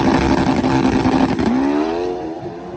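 Drag racing motorcycles, a nitro Harley against a turbo Hayabusa, roaring hard off the launch with the engine note sweeping upward as the tire spins and the throttle backs off, loud then fading.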